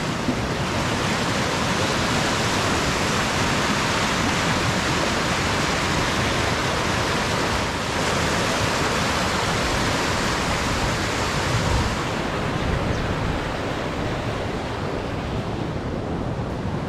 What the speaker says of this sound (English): There is a big rush of water because of the recent rainfalls.